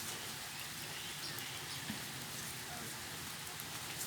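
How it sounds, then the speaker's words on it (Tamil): Steady rain pours down as a dense, even hiss of drops on surfaces, constant and fairly close for the whole stretch, with no voices. "அம்மா மழை"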